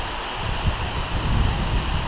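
Water rushing steadily through an irrigation channel beside an off-road bike trail in Ngwerere, near Lusaka, Zambia, making a continuous broadband roar with no break.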